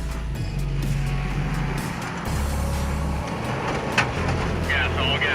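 An overland expedition vehicle's engine labors and accelerates up a rutted hill in Central America, a loud low rumble with shifting pitch and jolting knocks under the cabin, a clunk near the end, and someone talking over it.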